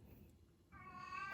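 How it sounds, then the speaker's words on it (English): An older male house cat that is losing his vision gives one drawn-out, fairly faint meow in the second half, after a quiet indoor stretch with no talking. "that's my cat. Hang on."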